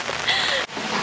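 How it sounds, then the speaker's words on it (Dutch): Steady rain patters on an umbrella overhead in a dense, close hiss, with a short break partway through. "Het regent vandaag echt heel de tijd."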